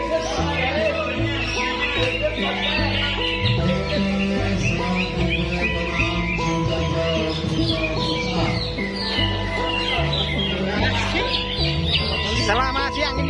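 Dense birdsong at a songbird contest, where a green leafbird (cucak hijau) sings among many caged birds. Constant overlapping chirps, whistles and squawks fill the scene, with a crowd murmuring underneath.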